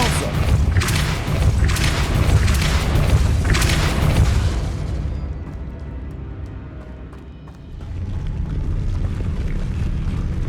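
A Depulso force spell is cast in Hogwarts Legacy amid heavy combat: a series of loud booming thuds and whooshes in the first few seconds, a brief dip, then rumbling impacts resume, with faint voices underneath.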